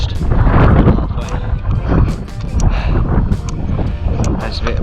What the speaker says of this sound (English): It just suddenly got really windy and cold.